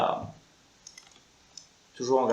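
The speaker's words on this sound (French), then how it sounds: "je n'appuie pas sur le clavier, je fais juste à la souris" Computer mouse clicks while playing World of Warcraft, a few soft, sparse taps in a quiet gap between stretches of French speech at the start and end.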